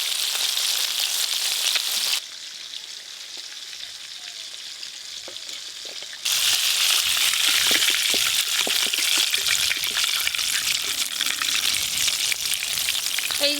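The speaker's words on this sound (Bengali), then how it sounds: "আর আজকে যে চিকেন ফ্রাই করছি" Chicken pieces frying in hot oil for KFC-style fried chicken, a dense steady sizzle that dips quieter for a few seconds mid-way before returning loud and crackling, close by with no talking.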